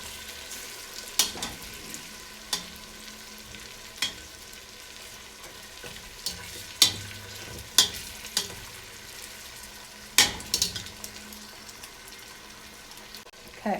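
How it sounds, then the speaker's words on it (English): Beef fries in oil in a pot with a continuous sizzle, while a utensil stirs and scrapes in sharp, irregular knocks against the pot, moderately close and without speech. "I basically just stir this around, keep them cooking till they're cooked through and they're nice and crispy on the outside."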